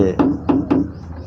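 Three sharp, close metallic knocks in quick succession as dents are tapped out of a car's tailgate by hand, each hit ringing briefly before the next.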